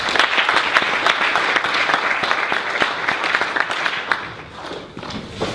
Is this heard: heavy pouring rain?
no